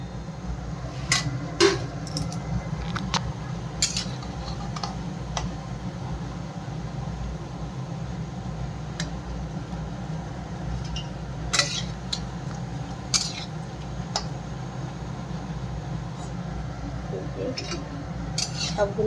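Metal utensil clinking and scraping against a pan while fried coriander pakoras are lifted out, with sharp clicks scattered over a steady frying hiss and someone talking.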